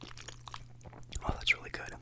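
Close-up ASMR mukbang chewing of mac and cheese, soft wet mouth sounds and smacks spread over a couple of seconds with quiet whispery breaths between.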